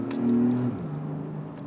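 Brief, low, husky exhaust growl from a Porsche 911 Carrera 4 GTS, a short rumble that swells and then drops to a softer, steady tone.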